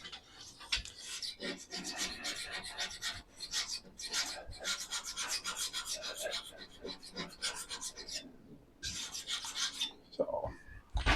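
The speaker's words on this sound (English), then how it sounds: "Get the right angle, you can just start scraping. It's not going to go into the cast iron, but it'll start scraping the rust off." A scraper works rust off a cast iron table top with close, rhythmic rasping strokes, broken by brief pauses and continuing for several seconds.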